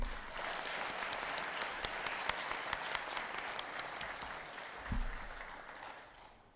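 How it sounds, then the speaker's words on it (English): Sustained audience applause at a book launch honouring a judiciary figure, a dense wash of many hands clapping steadily for several seconds, with a brief swell near the end before tapering off. "I'd like to ask the audience to give a huge round of applause to"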